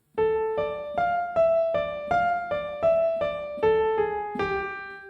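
Keyboard plays a slow phrase from a theme, about ten evenly spaced single notes alternating between two pitches, each with a clear attack and a short decay, the last held longer, close and alone.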